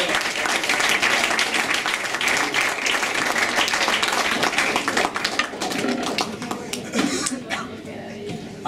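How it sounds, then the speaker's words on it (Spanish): An audience applauds at a live show. The clapping is dense and sustained throughout, and murmuring voices are mixed in near the end. "Un aplauso."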